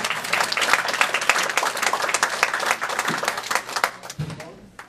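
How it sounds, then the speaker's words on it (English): Meeting audience at a staff gathering claps for two honored colleagues, a steady crowd applause of many hands that fades out near the end, with some voices mixed in. "We're going to clap after I say their names"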